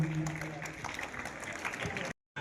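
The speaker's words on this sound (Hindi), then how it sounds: "तालियां सेठपाल जी के लिए" Audience applause at a school event in Chulkana, clapping for a guest at the stage, with voices mixed in before an abrupt cutoff.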